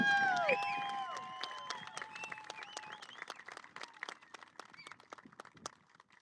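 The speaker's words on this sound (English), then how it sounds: "We give Mandy Newkirk a round of applause" Audience at an outdoor air show event applauding, a burst of scattered claps that thins out and fades over several seconds, with tonal whistle-like sounds at the start.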